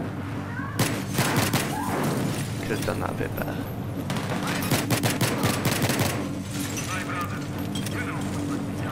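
Battlefield 3 gunfire in a combat mission, repeated sharp pistol and rifle shots in irregular bursts over a loud battle din, with someone talking over it.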